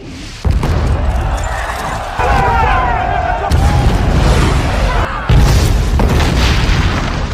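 Heavy booms from a bomb strike in an action film about a fight against terrorists, with deep thuds and rumbling bursts recurring over several seconds amid a dense, loud mix of film sound and effects.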